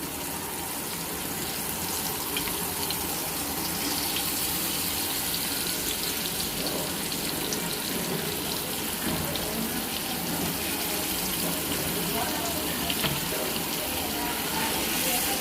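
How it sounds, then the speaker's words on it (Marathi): Mackerel (bangda) coated in masala frying in a pan, giving a steady, dense hiss and crackle that runs evenly at close range throughout. "अशा प्रकारे सगळे बांगडे आपल्याला तव्यामध्ये टाकून घ्यायचे"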